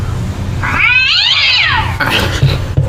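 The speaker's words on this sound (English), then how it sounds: "Oh, it's a cat. It's a huge cat." A cat in a shed lets out one long, loud, drawn-out meow that rises and falls, heard close and alone over a low background hum, followed by faint rustling.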